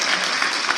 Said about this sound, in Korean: 천만 시민의 행복과 안전을 책임지고 있는 박원순 서울시장님께 큰 박수 부탁드립니다.